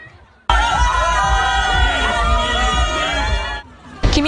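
A crowd of citizens in Singapore cheers and chatters loudly for a passing visiting leader at night, a dense wall of shouts and babble that starts abruptly, holds, then cuts away.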